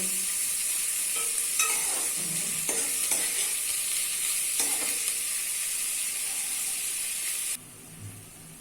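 Onions sautéing in a pan until golden brown for homemade chicken curry, a steady close sizzle broken by several scraping stirs of a spoon, stopping abruptly near the end.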